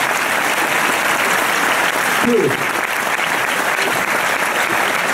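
Audience applause in a French event hall, sustained dense clapping at steady loudness, with a brief spoken word from a voice partway through.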